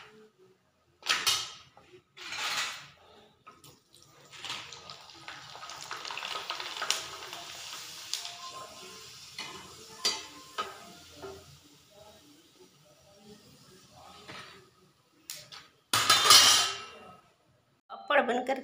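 Rice and flour papads frying in hot oil hiss and sizzle in bursts, with stirring and clinks of a pan, loud surges near the start and end over a steady low crackle.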